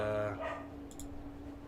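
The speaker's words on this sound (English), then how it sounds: "Sorry for the dog." Indoor dog barking, a short loud burst of barks at the start followed by a couple of quieter yips, with a steady low hum underneath.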